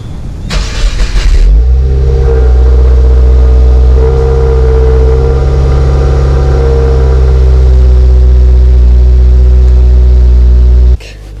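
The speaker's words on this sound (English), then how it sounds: "firing up the WRX for the first time" A 2020 Subaru WRX Limited engine cranks briefly, then fires and settles into a loud, steady close idle, with a click near the end.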